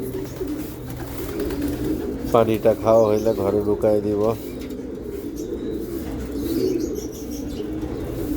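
Racing pigeons land at their loft amid soft flapping, and a close, throaty run of cooing rises for a couple of seconds. Someone talks nearby before and after.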